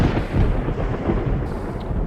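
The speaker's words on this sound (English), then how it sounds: "there's a dramatic thunderstorm, apparently" A dramatic thunderstorm in modded Minecraft, a steady low rumbling roll of thunder with a rain-like hiss, moderately loud and sounding alone for a couple of seconds.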